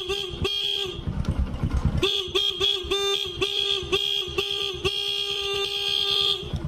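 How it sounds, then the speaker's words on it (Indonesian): Repeated short honks from the horn of a Honda Supra X 125 motorcycle, a slightly hoarse, buzzy tone sounding in quick bursts, one longer blast then a rapid series of toots, close and loud. "Agak sember klaksonnya juga."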